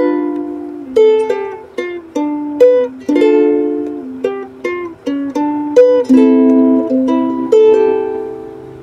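Fingerstyle acoustic guitar plays the second part of a song, close and clear, plucked melody notes over bass notes in a steady lilting rhythm, ending on a ringing sustained chord.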